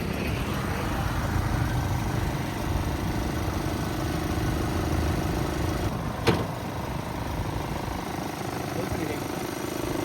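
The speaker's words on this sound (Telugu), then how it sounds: "మీకు ఇంజన్ కండిషన్ చూపిస్తే" A 2015 Ford EcoSport Titanium diesel engine idles with a steady, even rumble, broken once by a short click partway through.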